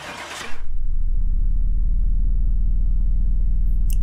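In the Car Mechanic Simulator 2018 game, a car's engine settles into a low, steady idling rumble during a path test, following a brief burst of noise at the start, with no talk.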